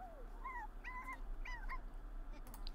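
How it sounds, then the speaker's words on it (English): A dog in The Sims 4 gives a run of high, whiny yips and whimpers in short repeated bursts over a low steady hum. The calls are moderately close and there is no speech. "What is the dog barking for?"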